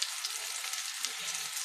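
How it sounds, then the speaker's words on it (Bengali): Fish roe fritters fry in oil in a pan over low heat, giving a steady close crackling sizzle with a few soft stirring touches and no talking. "এবার আর এক পিঠ ভালোভাবে ভেজে নেব।"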